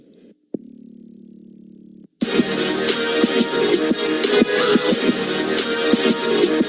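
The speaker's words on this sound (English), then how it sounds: "That is the sound of 30-plus motorcycles revving their engines." More than thirty motorcycles rev their engines together at a college football game. After a short quiet hum, a sudden loud, dense roar bursts in and keeps surging and pulsing as the engines rev.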